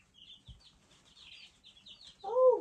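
American Bresse chicks about a week old on a homestead give soft, high peeping chirps throughout, ending with a louder, lower cluck close by.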